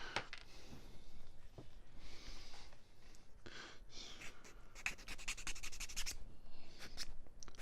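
Steady dry scraping and rubbing of abrasive as a small wooden model part is sanded by hand, continuous for several seconds with a few brief sharper strokes, close by.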